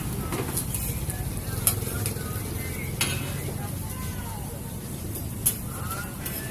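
A murtabak paratha fries on a griddle at a Malaysian night market, giving a constant loud sizzle under the crowd's murmur, with occasional sharp clicks of a metal spatula.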